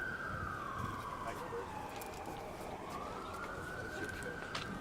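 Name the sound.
siren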